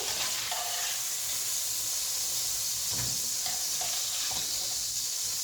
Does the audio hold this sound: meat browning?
yes